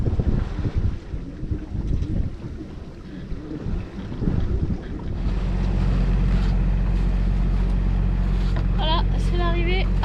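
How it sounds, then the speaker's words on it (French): A sailboat motors into port at Porquerolles under engine power with no wind. At first there is wind and water noise, then a loud, steady engine hum sets in halfway through, with voices heard over it. "c'est l'arrivée à Porquerolles au moteur parce qu'il n'y a plus de vent"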